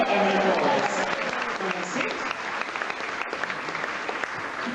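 Studio audience at a game show applauding as contestants are introduced, a dense burst of clapping that tapers over a few seconds while a host speaks over it.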